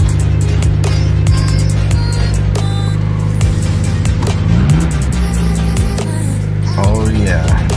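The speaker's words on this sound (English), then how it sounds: "Start up the car." A car engine turns over and settles into a steady, loud idle hum, with clicks and a person speaking over the running motor.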